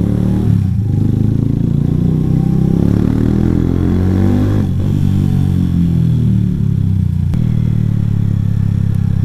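Suzuki GS 150 special edition motorcycle engine running loud and close, pitch rising and falling as it slows over speed breakers, with clattering and scraping jolts and no talk.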